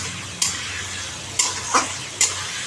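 Spice paste sautéing in a pan with turmeric, salt and a pinch of sugar, heard as a soft steady sizzle broken by three or four sharp scraping stirs of a spoon against the pan.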